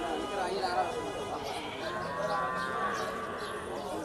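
Cattle at a busy Bangladeshi cattle market, with cows and calves, low moos rising over steady crowd chatter and people talking nearby.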